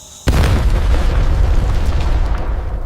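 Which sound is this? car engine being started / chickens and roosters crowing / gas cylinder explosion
gas cylinder explosion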